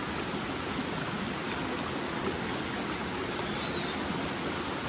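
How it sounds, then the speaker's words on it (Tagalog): Rushing water of Twin Falls in Carromata, San Miguel, Surigao del Sur, a steady broadband roar with no breaks, close and loud throughout. "habang papalapit kami guys sa falls, mas palakas ng palakas yung lagaslas ng tubig"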